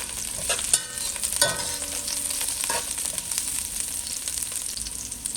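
Garlic, two cloves, sizzles steadily in hot oil in a pot for Jamaican curry goat, with a constant crackling fry and a few stirring scrapes, close and alone with no talk.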